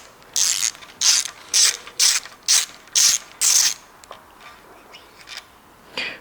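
A wrench ratchets as a nut is unscrewed on a 525 TDS engine, giving seven evenly spaced bursts of loud, close clicking, then a few fainter clicks near the end.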